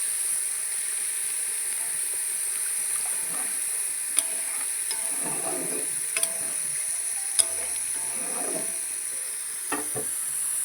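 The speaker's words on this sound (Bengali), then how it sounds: "তাই এখন জলটা দিয়ে দেবো।" A fish masala fries in a pan as water goes in, a steady loud sizzling hiss throughout with scattered pops and scraping stirs, no voices.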